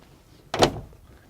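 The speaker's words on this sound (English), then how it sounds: "Open the door," The cab door of a LiuGong 922E Tier 4 Final excavator opening with a single short, close latch clunk and swing amid quiet surroundings.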